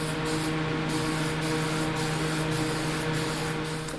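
Steady hiss of an aerosol can spraying Duplicolor Rust Fix onto metal seat brackets from antique Singer Sewing Machine Co. swing seats, continuous and close with a few brief pauses.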